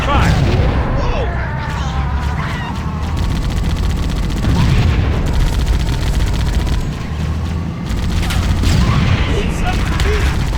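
Dense, continuous gunfire in Halo: Combat Evolved, rapid overlapping shots and booms from a battle filling the whole stretch, with shouting voices and game effects mixed in.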